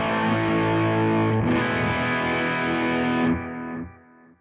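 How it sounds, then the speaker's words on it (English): Electric guitar run through a Hotone Ampero amp modeler with a delay effect, a dense distorted chord ringing out loud and sustained, then trailing off into fading delay repeats. "I'm going to turn on the 2 master effects, which are delay and reverb"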